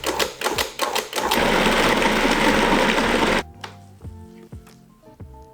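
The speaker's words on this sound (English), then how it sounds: "we're gonna pulse this to get a really rough grind" A food processor pulses chicken thigh and breast meat to a rough grind, giving a few short whirring bursts, then one longer loud run that stops abruptly, followed by faint clinks and handling noise.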